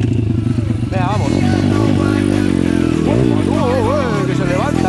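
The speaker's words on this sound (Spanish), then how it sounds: "Todavía la moto, como está en rodaje, no le quiero meter por aquí, pero vamos a ir por esta a ver qué tal." A new motorcycle still being broken in, climbing a rough dirt trail on its first ride, engine droning loud and close with rising and falling revs, while a rider talks over it.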